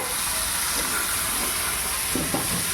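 Onions frying gently in a pan give a soft, even hiss that runs throughout, with a couple of faint stirring knocks near the end.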